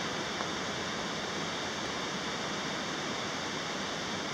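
Paulina Creek runs beside a hiking trail in Oregon pine forest, a steady, full rush of water that fills the whole stretch without a break and has no voices over it.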